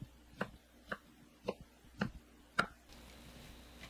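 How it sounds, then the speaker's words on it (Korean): A knife cuts through 100 g of ham on a board, making five or six separate, evenly spaced taps, each close and fairly quiet, with no talking. "햄 100g을 썰어 주세요."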